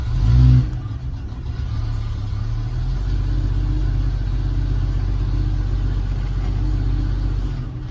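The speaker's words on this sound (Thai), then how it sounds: "สังเกต เร่งความเร็ว เร่งรอบนะครับ" A Jeep XJ engine with a charging-system fault and low idle revs up, a steady mid-low engine drone rising briefly at the start and then holding a sustained higher rev, close and loud with no talking.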